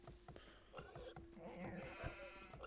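Sheep bleat repeatedly in the real-time strategy game Age of Empires II, several wavering cries over steady game ambience and faint background sounds.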